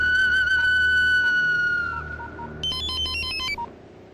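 An electronic phone ringtone plays close and clear: a long sustained tone followed by a quick run of bright melodic beeps, with no voices over it.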